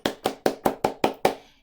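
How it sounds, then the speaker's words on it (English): Seven sharp hand claps in a steady, even rhythm, close and crisp, each with a short decay, alone without talk. "clap your hands like this"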